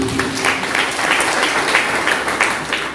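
A church congregation claps for Jesus during an Indonesian sermon, a loud, even wash of many hands that holds at a constant level for a few seconds with no speech over it.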